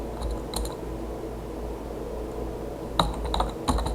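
A few faint, scattered keystrokes tap on a computer keyboard over a steady low hum, with a small cluster of clicks near the end.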